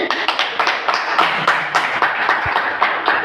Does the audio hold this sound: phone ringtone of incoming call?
no